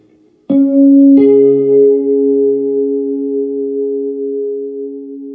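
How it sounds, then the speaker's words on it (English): Electric guitar through a Sonulab Galaxy reverb pedal: two picked chords strike close together, then bloom into a long, smooth, shimmering sustain that slowly fades, with no talking. "Now with Galaxy reverb again."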